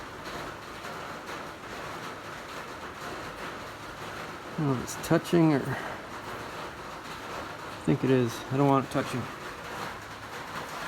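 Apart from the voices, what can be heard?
rain falling on an uninsulated tin roof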